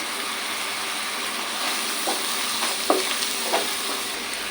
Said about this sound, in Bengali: একটুক্ষণ ভেজে নেওয়ার পর এখানে আমি অ্যাড করছি হলুদ গুঁড়ো এক চামিচ